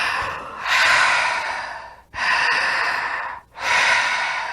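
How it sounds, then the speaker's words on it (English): During a rebirthing session, deep circular breathing sounds close up: three long, loud breaths drawn and released in a steady rhythm with barely any pause between them. "So just keep breathing."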